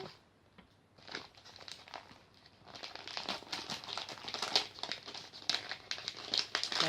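Plastic packaging crinkles and rustles as a doll parcel is opened by hand, starting quietly, then growing into loud, close, irregular crackling bursts, with no talking.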